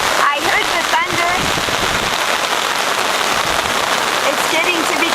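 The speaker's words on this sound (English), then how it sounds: "It's getting to be quite a storm." Heavy storm rain hammers down at a church in Shyira, Rwanda, a loud, dense, unbroken roar of drops with faint voices buried beneath it.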